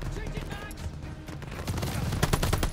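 Rapid machine gun bursts in the Call of Duty: Vanguard video game, dense crackling gunfire that grows louder and more intense toward the end, with a voice talking over it.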